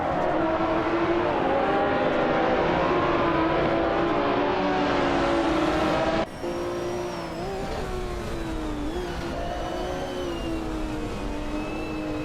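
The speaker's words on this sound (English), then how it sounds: "driving a 1981 Lancia Monte Carlo Turbo, which is a turbocharged mid-engine sports car" A 1981 Lancia Monte Carlo Turbo, a turbocharged mid-engine sports car, races in a video game, its engine droning steadily with rising and falling revs, loud and continuous, with a brief gear-change dip midway.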